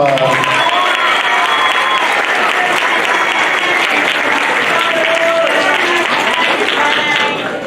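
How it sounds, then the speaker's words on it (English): A middle school spring band concert audience gives another round of applause for an award recipient: thick, even clapping from a large crowd, loud and sustained, tapering a little in the final moment. "Give him another round of applause."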